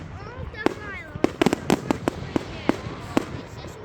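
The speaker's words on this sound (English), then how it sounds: "Is this all the fireworks?" Fireworks crack in quick succession on Bonfire Night in Elgin, around nine sharp pops clustered closely together with a few spaced later, under faint background chatter.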